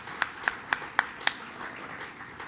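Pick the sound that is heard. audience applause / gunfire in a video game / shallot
audience applause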